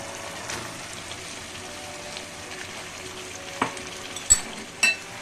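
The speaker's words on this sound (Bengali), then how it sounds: "এবার আমি চিকেনগুলো দিয়ে দিচ্ছি।" Chicken pieces for Chicken 65 frying in a pan: a steady, soft sizzle with a few sharp clinks of a utensil against the pan near the end, no voices.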